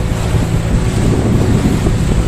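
Steady, loud rush of wind and water around a fishing boat at sea, waves sloshing continuously with heavy wind buffeting the microphone throughout.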